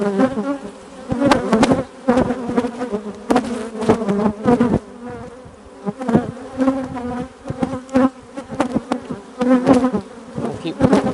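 Honeybees from an opened hive during a hive split buzz loudly and close, with swelling, uneven waves of droning and occasional sharp bumps as the frames are handled.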